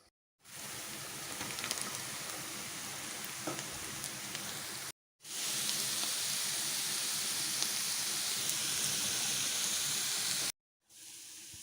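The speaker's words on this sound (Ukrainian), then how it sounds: "А поки що жаримо цибульку." Onions fry in a pan with a steady, even hiss and crackle that cuts out twice briefly and then resumes, with no talk.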